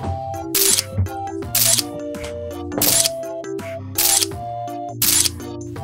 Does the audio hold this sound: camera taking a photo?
yes